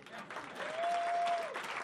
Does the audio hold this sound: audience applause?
yes